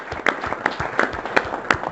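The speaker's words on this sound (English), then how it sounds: "Can we have a round of applause for this man?" Audience applause at a motorbike riders' gathering in Bangalore: a crowd clapping in uneven, bursty waves that swell and fade over two seconds, with a few sharper claps standing out.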